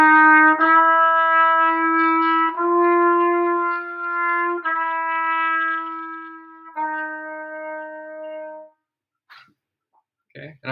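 A trumpet plays a slow chromatic scale starting on F, with four sustained, clear notes each held about two seconds and stepping in turn. Near and loud with no talk, followed by silence and a few faint knocks.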